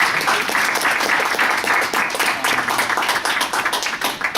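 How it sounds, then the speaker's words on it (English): Audience applause for a speaker named Larry at a JETAA Chicago career development workshop, a dense, steady wash of many hands clapping close by, filling the whole stretch without talk. "one more round of applause for Larry"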